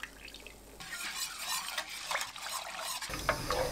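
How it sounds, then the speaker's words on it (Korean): Glutinous rice flour and water are stirred in a pot over high heat, giving repeated close scraping and swishing strokes of a spoon against the metal. "센 불로 저어가면서 끓입니다."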